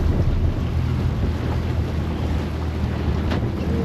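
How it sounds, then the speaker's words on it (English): Small boat pounding through big ocean waves with white caps off remote West Arnhem Land, loud constant rumble of wind buffeting and water crashing, with no voices. "Oh my god, Dale, they are big waves."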